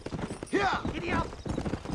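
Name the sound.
horse galloping in video game Red Dead Redemption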